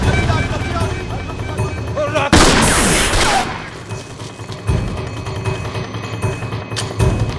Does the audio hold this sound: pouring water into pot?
no